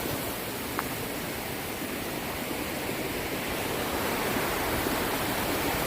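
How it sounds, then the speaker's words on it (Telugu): A forest waterfall on a trail in Mizoram roars as a steady, dense rush of falling water, loud and unbroken throughout, with no voices. "అక్కడ ఉంది వాటర్ ఫాల్"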